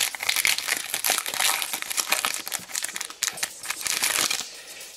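A Pokémon booster pack's foil wrapper crinkles and crackles loudly up close as it is torn open, a dense run of sharp rustling bursts.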